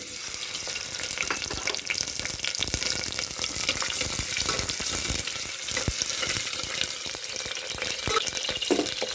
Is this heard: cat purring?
no